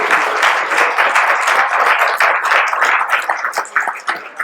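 Applause fills the room at the end of an inaugural university lecture, many hands clapping densely and steadily, close and loud throughout before trailing slightly at the end.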